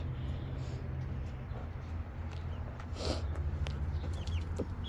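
Chickens cluck softly and intermittently at close range over a steady low background hum, with a few brief higher calls scattered through.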